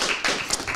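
An audience applauds at the close of an evening lecture by Dr. Einat Wilf: a dense, steady patter of many hands clapping at once, fairly loud and close, with no voices over it.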